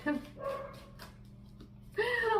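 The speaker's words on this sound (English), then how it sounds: "every time I do your reading, my dog goes crazy" A dog barks excitedly in a few short bursts indoors, mid-distance and fairly faint, with a steady hum underneath and other sounds mixed in.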